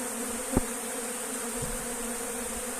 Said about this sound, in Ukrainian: З бджолами. Красота, гул.